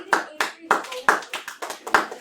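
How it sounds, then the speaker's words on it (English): Hands clap about seven times in a steady rhythm in a middle-school math classroom, sharp and close, with a faint voice beneath. "What if I just keep clapping?"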